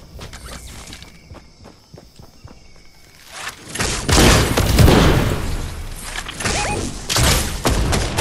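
Fortnite gameplay with enemy footsteps below the player, repeated thuds and steps among building impacts and explosive booms, busy and loud in the second half.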